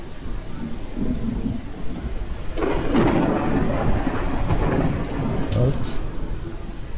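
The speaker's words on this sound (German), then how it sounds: "Solange es regnet." Rain and rumbling thunder in the survival game Mist Survival, a steady wash of rainfall with a louder thunder roll building midway, mixed with a faint voice.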